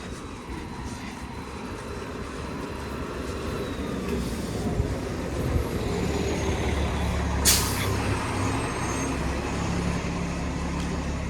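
A city bus idles at a stop on a Toronto street, its engine rumbling low and steady while a short sharp hiss of air brakes cuts through midway, with traffic noise around.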